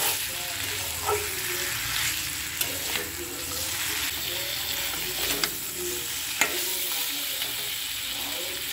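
Gobindobhog rice fries in a pan with a steady close sizzle while being stirred, making soft scraping strokes and occasional light knocks against the pan throughout.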